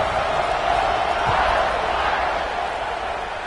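Steady roar of a college football crowd cheering in a stadium just before kickoff, a dense, continuous wash of voices that stays loud and even throughout.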